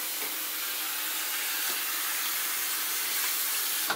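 A sweet potato washed under a running kitchen tap, steady hissing water spray close by, continuous for a few seconds and ending with a brief knock, with no talking.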